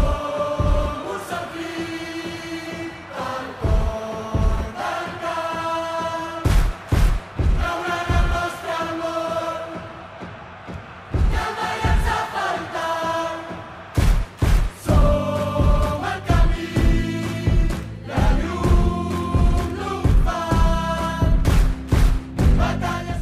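FC Barcelona's 125th anniversary anthem plays as a full, loud musical recording with strong rhythmic accents and sustained tonal passages throughout.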